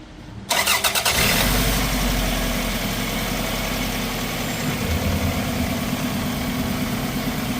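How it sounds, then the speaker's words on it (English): A car engine cranks briefly and catches, then settles into a steady, loud idle close by, with an exhaust back pressure gauge connected for a catalytic converter test. "let's start a car and let's see how much exhaust pressure we have"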